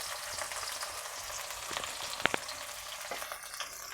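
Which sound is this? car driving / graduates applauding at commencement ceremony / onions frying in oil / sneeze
onions frying in oil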